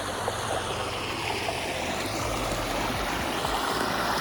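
A mountain waterfall pours steadily, a constant broad rush of falling water close by that keeps going with no pauses and no voices.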